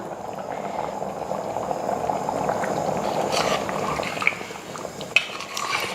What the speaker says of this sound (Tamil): லைட்டாக கொதிக்க ஆரம்பிச்சிருச்சு